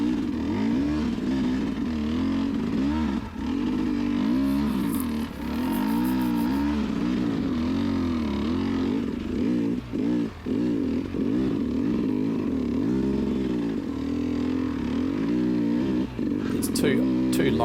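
An enduro motorcycle engine revs hard and close in first gear on a hard enduro farm trail, its pitch rising and falling steadily throughout as the rider pushes through the climb.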